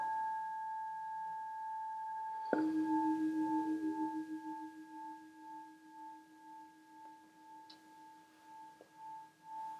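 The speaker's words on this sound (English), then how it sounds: "let the sound of the singing bowl bring you into the here and now." A singing bowl struck once during a guided sound bath meditation, a clear bright strike followed by a long sustained ringing hum with slow wavering beats that gradually fade, heard alone.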